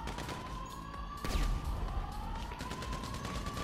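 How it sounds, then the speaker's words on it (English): Gunfire in GTA 5 during a heist setup mission, a dense run of shots with a sharper burst about a third of the way in, over a steady siren-like tone and continuous game noise. "Good shooting there."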